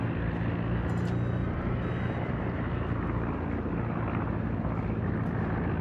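Aircraft engine drone from planes flying over a smoke screen in the naval game World of Warships, a steady, loud, unbroken roar that holds without a break.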